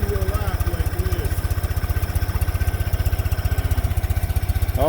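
An ATV engine idles steadily up close with an even, rapid pulsing throb, while people talk over it.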